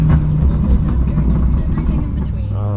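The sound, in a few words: Dodge Hellcat Charger engine running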